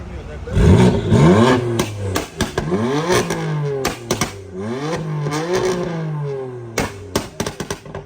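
A car pulls into a car park with its engine revving up and down in several loud, close sweeps, with clattering and short gaps between the revs.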